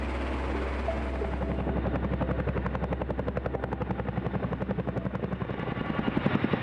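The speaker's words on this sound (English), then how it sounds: "recently repaired UH-47 performing maneuvers outside Ansbach, Germany." A recently repaired Chinook helicopter flies maneuvers outside Ansbach, Germany, its rotors beating a steady, fast thudding pulse that grows louder and closer over a low engine roar.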